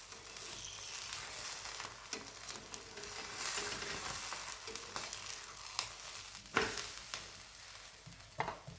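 Steady sizzling of cabbage thalipeeth flatbread cooking on a hot griddle, with a few soft knocks and scrapes over the constant hiss.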